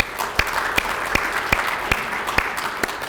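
Audience applause welcoming a vice-chairman at a regular quarterly meeting, continuous clapping punctuated by a few sharp, evenly spaced loud claps close by.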